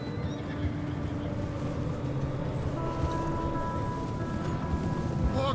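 Horse from Red Dead Redemption 2 neighs over a steady bed of snowy outdoor ambience and clopping hooves, with faint game voices in the mix.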